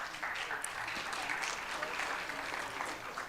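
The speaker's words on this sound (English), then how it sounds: "Please give them another round of applause." A crowd at a small business summit applauds steadily, a dense wash of clapping that holds at an even level from start to finish.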